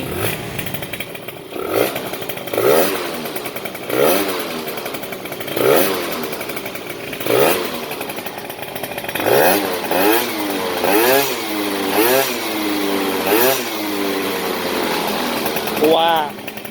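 A Kawasaki ZX motorcycle fitted with a Yasuni exhaust revs repeatedly up and down, rising and falling engine wails in a regular rhythm that quicken toward the end, with someone talking over it.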